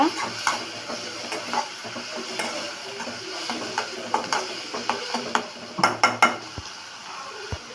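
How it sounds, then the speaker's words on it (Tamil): Tomato sautéing and being stirred in a pan for brinjal thokku, with repeated clinks and scrapes of a spoon against the pan over a faint sizzle, close and fairly steady. "கொஞ்சமாக தக்காளி இப்போ நல்லா வதக்கி கொடுத்துக்கோங்க"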